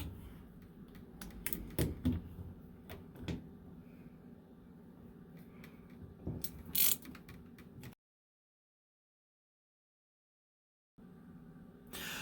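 A ground screw is being taken out of an appliance service switch, with small close clicks, taps and scrapes at an uneven pace. Near the end there is a silent gap, then a low background hum.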